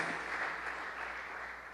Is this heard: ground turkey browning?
no